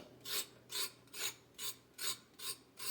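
A knife blade scrapes the peel off a carrot in seven steady, evenly spaced rasping strokes, close and clear with a faint hum underneath.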